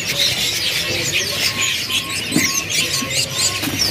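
Many caged birds, including young Indonesian selendang biru birds, chirp and twitter continuously in a Pasar Pramuka bird market kiosk, close and busy, with a soft coo now and then and a low background hum.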